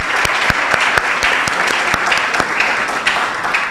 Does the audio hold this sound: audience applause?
yes